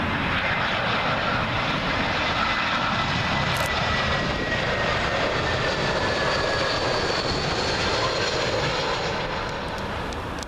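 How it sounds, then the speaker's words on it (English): A British Airways Airbus A319 arriving at Heathrow's runway 27L from Dublin roars close overhead, a loud, dense engine rumble with a faint whine that stays steady throughout and fades slightly at the very end. "Next up, we got another Airbus A319 for British Airways, and this one is from Dublin."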